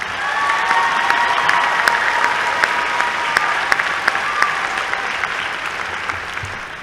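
A commencement audience at Morehead State University's spring ceremony applauds three student vocal performers, a broad, steady round of clapping from a large crowd with a few sharper claps standing out, fairly loud and continuous throughout.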